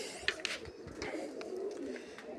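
A red Chinese pigeon coos in a loft, soft repeated low coos with a few sharp flutters or clicks early on, fairly close with faint background noise.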